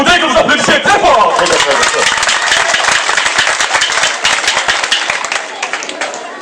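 Loud, dense crowd applause at a political rally, a thick stream of clapping mixed with shouting voices and babble, gradually thinning toward the end.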